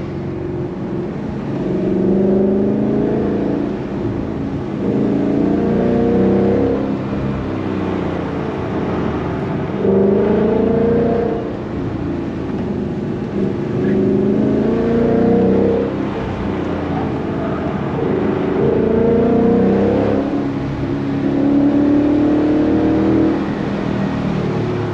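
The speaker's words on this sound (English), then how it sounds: "Watching all the cars drive by." Cars, including a Mustang and a Porsche, pass one after another on the Tail of the Dragon mountain road, engines swelling and fading in repeated waves as each approaches and drives away, steady and fairly loud with no talking.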